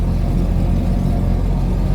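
A 2.2-litre Morris 2200 car engine on its first drive in 30 years, a steady loud low drone heard from inside the car, continuous without pauses.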